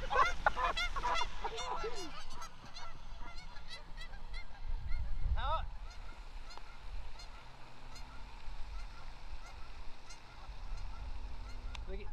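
Geese honk repeatedly on a golf course, the calls loud and close in the first few seconds, then scattered and more distant, over steady outdoor rumble with a brief voice.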